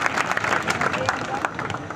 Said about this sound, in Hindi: एक बार जोरदार तालियां बजा दो सर के लिए